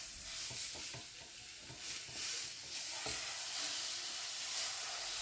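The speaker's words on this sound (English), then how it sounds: "In a hot pan with a bit of oil, all you're doing is just searing it on the outside." Beef sizzling in a hot oiled pan as it sears for a crock pot roast, a steady close hiss with soft stirring and shifting noises and no voices.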